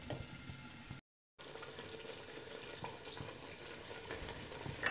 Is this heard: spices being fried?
yes